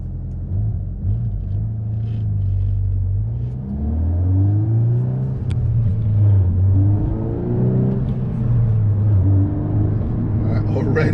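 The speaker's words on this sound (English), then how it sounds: "And it's backfired. You get the pops and the, ooh, can you guys hear the pops?" A VW Golf R MK8 running a 93-octane COBB Accessport tune drives along with a low, steady engine rumble and shifting revs, heard from inside the car, while people talk over it.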